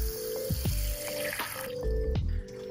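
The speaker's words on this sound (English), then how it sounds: "Now we're putting in a shallow water dish with some reverse osmosis water for the froglets" Reverse osmosis water is poured into a shallow water dish set out for froglets, giving close, gurgling trickles and splashes in short bursts.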